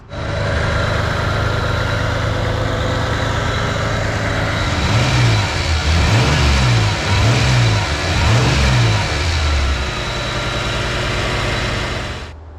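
A car engine with a ported intake and a larger throttle body idles loudly, then revs up four times in a steady rhythm before settling back to a raised idle.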